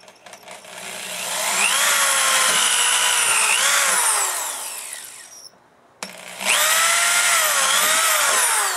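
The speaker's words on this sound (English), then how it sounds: "Use the same 30 or 1/8 inch drill." A power drill with a 1/8 inch bit whines close up while boring holes in a Harley-Davidson Tour-Pak seat back, spinning up, holding, winding down, then starting again in two bursts.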